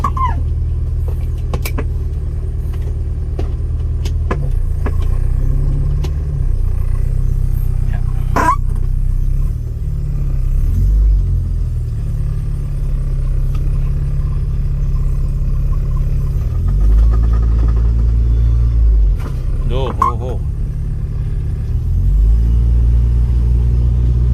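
A Toyota Corolla with a 5A engine is heard from inside as it drives, giving a steady low engine rumble that rises and falls with gear changes and throttle. Occasional clicks and creaks come from the cabin, and there is no talking.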